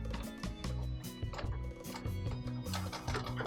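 Sewing machine stitching cloth, a rapid mechanical clatter of needle strokes in quick, slightly uneven bursts, close and moderately quiet, with no voices over it.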